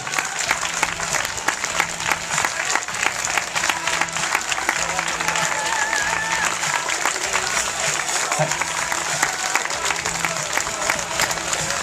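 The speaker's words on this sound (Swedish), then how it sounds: "Applådera gärna nu." A large crowd at the finish of a half marathon in Kalmar applauds a runner steadily and loudly for the whole stretch, with scattered cheers and a voice talking faintly underneath.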